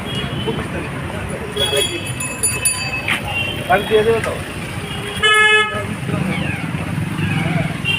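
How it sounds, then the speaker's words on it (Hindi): A vehicle comes along a road and sounds its horn in short toots amid traffic and motorcycle noise, with people talking nearby. "देखो गाड़ी आ रही है थोड़ा सा।"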